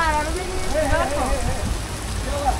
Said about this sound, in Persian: آره ببین چه وضعیتی شد، یه بارون گرفت از همه طرف